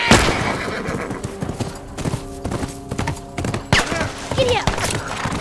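Horse galloping with rapid hoof clip-clops and a loud neigh in The Last of Us, close and busy over several seconds, with scattered thuds and no talk.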